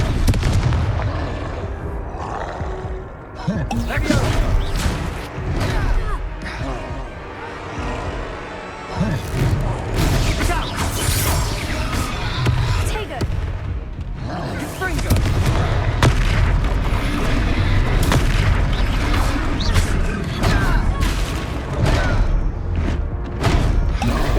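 Hogwarts Legacy combat with the Confringo fire spell, a dense stretch of loud booming blasts, thuds and crackling impacts over game music, repeated throughout with brief lulls.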